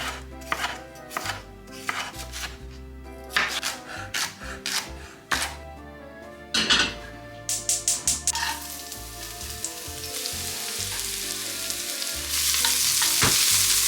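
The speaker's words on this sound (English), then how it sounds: "I have a shallot and some garlic sauteing down." Shallot and garlic sauté in a pan, with rapid close chopping and clacking strokes early on, then a steady hiss of frying that grows louder toward the end, with no voices.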